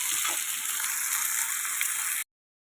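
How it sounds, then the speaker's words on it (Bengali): Potatoes frying in fish oil give a steady, close, dense sizzle with crackle throughout, then stop abruptly near the end; no one speaks. "আমি মাছের তেলের ভিতরে আলুগুলো দিয়ে দিয়েছি এটার ভিতরে একটু নুন দিয়ে ভালো করে ভেজে নেবো আলুটা"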